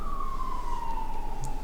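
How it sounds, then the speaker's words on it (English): A siren wails as one steady, slowly falling tone, moderately loud and alone over a low background hum. "Siren."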